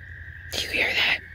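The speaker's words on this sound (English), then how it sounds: "That's the screaming cricket." A screaming cricket near a pond gives a steady, shrill, high-pitched drone that runs unbroken through the whole moment, briefly joined by a louder, breathy burst of other sound in the middle.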